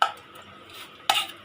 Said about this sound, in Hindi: सेम प्रोसेस के साथ हम इन्हें भी इसी तरह से फेंट लेंगे